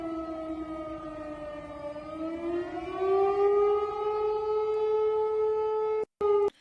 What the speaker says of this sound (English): this is the sound of air raid sirens playing over, I believe this is Belgorod itself